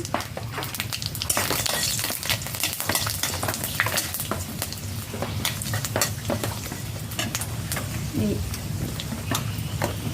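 A bay leaf and whole spices crackle and sizzle as they temper in hot oil in a village kitchen, with close popping bursts, spoon scrapes against the pot, and a steady frying hiss underneath.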